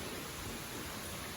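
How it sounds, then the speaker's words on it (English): Steady rain pours down outdoors on a driveway where a Duramax 2500 L5P pickup is parked, a dense, even hiss with no gaps across the whole stretch, moderately loud and with no voices over it. "You guys will have to excuse the rain there."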